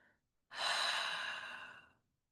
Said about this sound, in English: Deep inhale, complete exhale.